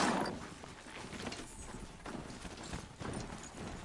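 Horse hooves in the video game Horizon Zero Dawn: The Frozen Wilds, a steady clip-clop of a mount's gait, moderately quiet and regular, with no voices.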